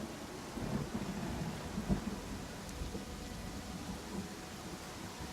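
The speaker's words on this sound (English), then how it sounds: "Apparently it's a thunderstorm." Rain and thunderstorm in Pathfinder: Kingmaker, steady hiss of rainfall with low rolling thunder rumbles beneath, moderately quiet and continuous with no talk.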